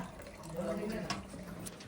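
Water running from a tap in a newly built house, a faint, quiet trickle and splash heard under a person's voice.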